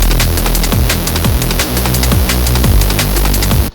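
A hissing white-noise layer from the Serum synthesizer runs under a loud electronic beat with pulsing, pitch-dropping Reese bass hits, then cuts off abruptly.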